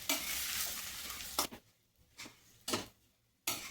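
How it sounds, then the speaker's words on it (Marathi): Smashed potatoes being mixed for batata vada, a few loud bursts of scraping and squelching with quiet pauses in between, close by. "स्मॅश केलेले बटाटे छान मिक्स करून घेऊया."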